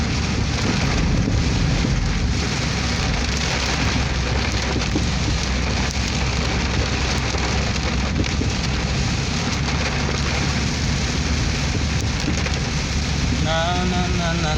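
Heavy rain falling at dusk pours in a dense, constant hiss and patter, loud and unbroken throughout, with a faint melodic voice creeping in at the very end.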